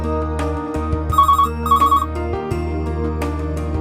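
A telephone rings for an incoming call on a call-in show, two short electronic trills standing out above a loud, sustained musical background.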